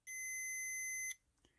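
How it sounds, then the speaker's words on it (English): A continuity tester's buzzer gives a single sustained electronic beep lasting about a second, high-pitched and steady, then cuts off abruptly into near silence. "So this should ring the buzzer."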